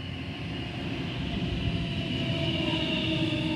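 A passenger train arriving at platform 1 at North Strathfield station in Sydney, a steady low rumble and hum of wheels and motors with rising tones, constant throughout and moderately near, no talking.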